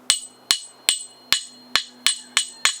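A steel hatchet head, hafted with a wooden wedge, struck eight times in a steady rhythm, each hit giving a sharp metallic ping with a short ringing decay, close and clear.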